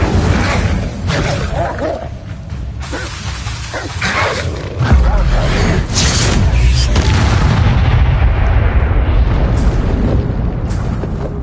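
A fire spell blasts in the Hogwarts Legacy video game, a loud booming whoosh of flame followed by a sustained roaring rumble with crackling bursts layered in game combat noise.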